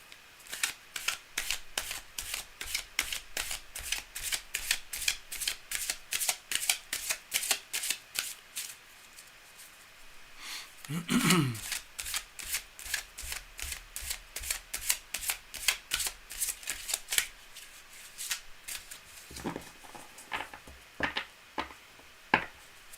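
Tarot cards shuffled repeatedly in a fast, rhythmic series of close, crisp card slaps that continues throughout with brief pauses.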